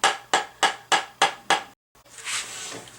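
Hammer tapping fret wire into the neck of a Strat-style guitar kit, five sharp, evenly spaced close blows followed by a short silence and then a softer rustle.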